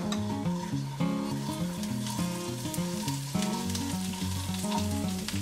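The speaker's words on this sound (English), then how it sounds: "now that the garlic is mostly cooked, you wanna go ahead and add your kale leaves" Kale leaves sauté with garlic in a pan, a bright continuous sizzle and stirring running beneath prominent background music with sustained melodic notes.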